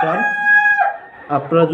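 A rooster on a rooftop poultry farm crows once, loud and close, and a few chicken clucks follow.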